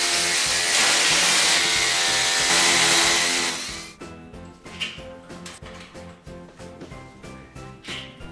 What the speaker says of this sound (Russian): И сверлим под него отверстие.